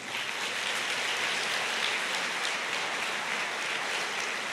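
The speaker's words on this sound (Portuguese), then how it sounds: "eu queria que você aplaudisse esse personagem" A large congregation at a church sermon applauds in a thick, continuous wash of clapping that holds at an even, loud level throughout, with no voices standing out.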